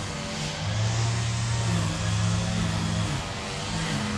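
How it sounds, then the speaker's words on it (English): A lawn mower drones nearby with a steady motor hum that swells and eases slightly as it moves across the grass. "I decided to come in and he decides to cut the grass"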